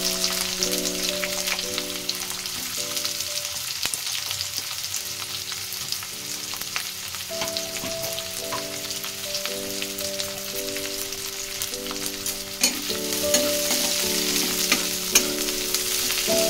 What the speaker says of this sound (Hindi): एबे हमें पियाज पकई देबा